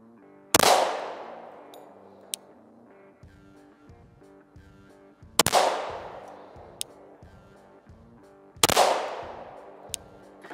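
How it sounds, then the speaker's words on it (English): Three sharp, loud pistol shots ring out several seconds apart while a red dot sight is zeroed, each crack decaying into a short echo, with faint metallic clicks between them. "I fired 8 left because that's what I had left in the box."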